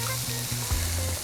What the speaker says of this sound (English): Final sear right over the coals just for a moment.